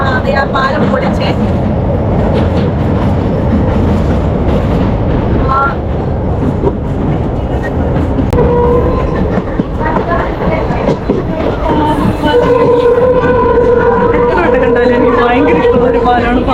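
A fast passenger train on the Madurai to Rameswaram line near the Pamban bridge makes a continuous loud rumble and rattle, with people talking over it.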